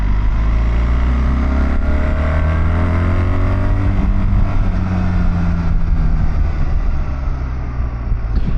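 A BMW motorcycle fitted with the Automated Shift Assistant downshifts under light braking, its engine note steady and fairly loud throughout, rising and falling in harmonic sweeps over a constant low rumble with no talk.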